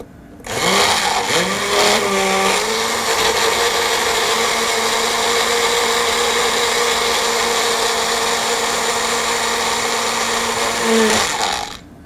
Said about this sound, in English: we're just going to give it a little shake and give it a blend